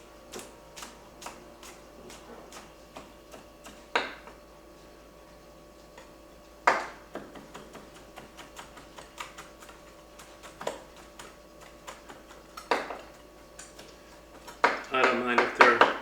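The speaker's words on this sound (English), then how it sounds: "I'm just going to give them a little quick chop." Knife chopping garlic cloves on a board for a marinara sauce, a series of sharp, irregular taps that grow into a quick, dense burst of chopping at the end.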